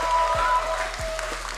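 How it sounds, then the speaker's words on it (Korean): Audience applause fills a short stretch at an LCK Summer 2024 League of Legends post-match interview for Nongshim RedForce after their game against BRO. The clapping is steady and fairly close, with faint tonal hum underneath. "여러분 큰 박수 부탁드립니다."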